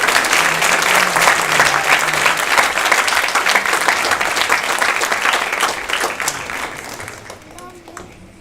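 Sustained audience applause at a saxophone and flute arangetram, a full hall clapping steadily and loudly with faint crowd murmur, tapering off near the end.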